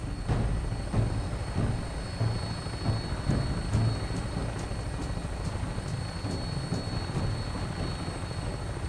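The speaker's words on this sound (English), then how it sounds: "Tinker's gonna keep the vertibird spooled for an immediate takeoff." A vertibird aircraft in Fallout 4 with a steady rotor and engine drone, a low rumbling thrum and a faint high whine throughout, no voices.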